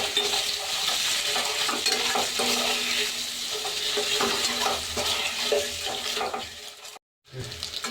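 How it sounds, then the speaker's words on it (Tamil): Boiled eggs roast in hot oil in a pan for egg biryani, giving a steady loud sizzle with scraping stirs throughout, broken by a brief silent gap near the end before the frying resumes. "பாருங்க, முட்டை இந்த அளவுக்கு ரோஸ்ட் பண்ணி எடுத்துக்காங்க."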